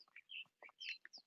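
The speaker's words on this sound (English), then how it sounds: "Look, I can even hear birds." Outdoors in Los Angeles, small birds give quick, faint, high chirps and tweets in a short scattered burst of about half a dozen notes.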